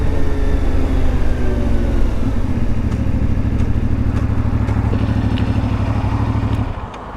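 A CFMoto Ibex 450 motorcycle with a sputtering, misfiring fault runs close and loud at a steady mid-rev drone with an uneven burble, then the engine note drops away near the end.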